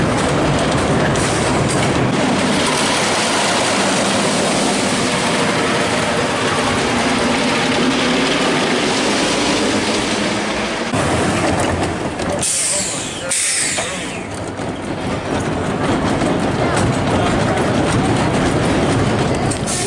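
The Boss roller coaster at Six Flags St. Louis runs close by, a loud, continuous rumbling roar of the train on the track with shifting clatter, lasting the whole stretch.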